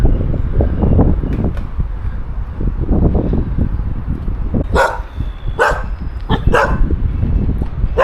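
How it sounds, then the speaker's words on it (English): Several sharp dog barks ring out in the middle distance in Vietnam, near road construction, over a steady wash of wind and rumbling background noise. "Some dogs here."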